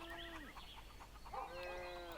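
Two drawn-out moos from cows in the video game Cities: Skylines, one at the start and another after a short pause, over a busy background of farm animal noise.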